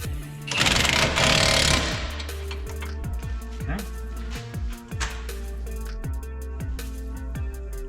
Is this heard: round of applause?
no